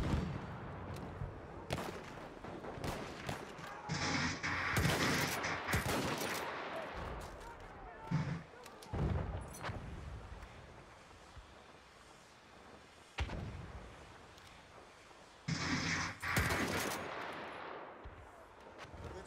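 A grenade goes off in the shooter game Battlefield 1 amid steady gunfire and other battlefield blasts, with loud bursts coming and going and the chaotic combat sound filling the whole stretch.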